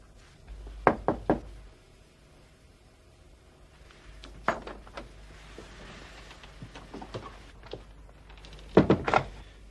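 Knuckles rapping on a door in an indoor film scene: a quick triple knock, a pause, a single knock with a few softer taps, then another loud triple knock near the end, close and crisp against a quiet room.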